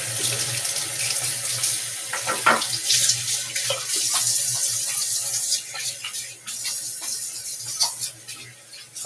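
Tap water runs steadily into a sink during a wet shave, loud and close, with irregular splashes as water is brought up to the face.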